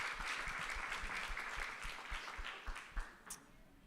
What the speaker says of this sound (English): It's time to give you all a round of applause for your incredible stories